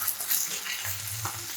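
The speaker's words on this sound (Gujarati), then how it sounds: "ભાજીને આપણે સારી રીતે તેલમાં શેકાવી દઈશું." Drumstick leaves sautéing in hot oil with turmeric, coriander-cumin powder and red chili, a steady soft sizzle and stirring scrape close by, with no talking.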